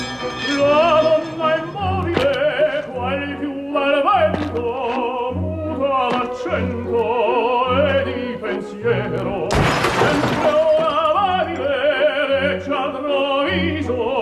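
Security glass on a BMW 7 Series shatters in a single loud, bright crash midway through, set against sustained operatic music that plays throughout.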